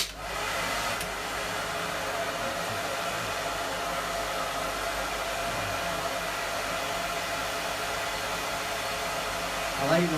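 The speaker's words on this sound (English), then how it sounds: "when using a hair dryer, I don't use it at its top mark, I always use it at number 2" Hair dryer running at its second setting while grooming a dog, a steady close whir that holds evenly for the whole stretch with no one talking.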